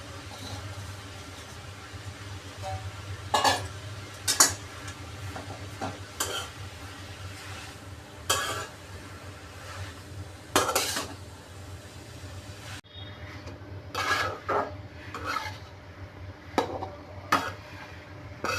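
Chopped radish and its greens being sautéed in a pan: a low steady sizzle under intermittent scraping strokes and clinks of a spatula against the pan, with no speech.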